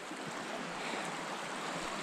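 A river flows across a hiking trail near Moab, Utah, a steady broadband rush of water that stays even and fairly close throughout.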